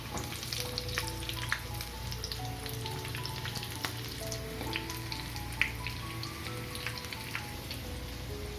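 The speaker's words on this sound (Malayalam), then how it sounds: "ഈ പുറത്തെ കോട്ടിംഗ് ഒന്ന് നമ്മുടെ പാകത്തിന് ഗോൾഡൻ ഫ്രൈ ആയി കഴിഞ്ഞാൽ കോരിയെടുക്കാം" Cauliflower pakodas fry in hot oil, a continuous crackling sizzle with fine pops, steady and close, while faint melodic background music plays underneath.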